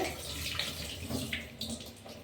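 Urad dal is washed by hand in water, giving steady close splashing and sloshing with a few brighter swishes throughout.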